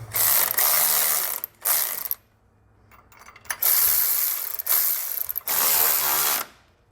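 A ratchet wrench snugs down the nylon lock nut hardware on Air Lift LoadLifter air helper springs fitted to a 2016 Chevrolet, sounding as several close, loud bursts of rapid clicking separated by short pauses, with no talking.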